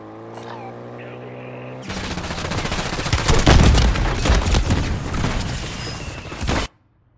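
Gunfire in Call of Duty: Warzone, a loud sudden barrage of rapid automatic shots and heavy booms that starts abruptly after a quieter tonal stretch and cuts off sharply at the end.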